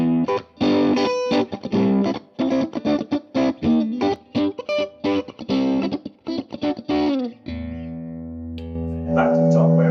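Fender Stratocaster electric guitar on its second pickup position gives a warm tone, playing a busy run of picked notes and chords, then settling into a sustained low chord near the end, loud and close with no talk.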